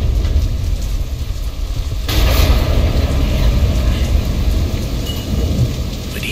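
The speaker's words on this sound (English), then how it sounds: "Storm." A thunderstorm in the game Deadlight: steady heavy rain pours throughout, and a low rumble of thunder swells about a third of the way in and keeps rolling under the downpour.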